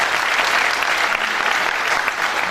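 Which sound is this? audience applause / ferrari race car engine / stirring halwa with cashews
audience applause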